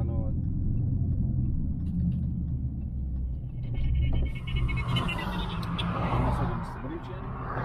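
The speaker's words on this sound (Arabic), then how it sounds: "حتى وانت تدوس والجام صاعد الصوت يطلع قوي" A Dodge Scat Pack 6.4 (392) engine with headers revs and rumbles loudly nearby while accelerating, with people talking over it.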